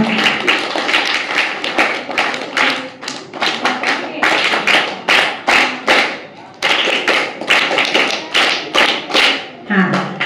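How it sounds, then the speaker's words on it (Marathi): A group of children clapping hard in a room, dense bursts of loud applause that pause briefly and resume, with a voice speaking over it toward the end. "म्हणून एकदा परत जोरदार टाळ्या वाजवा"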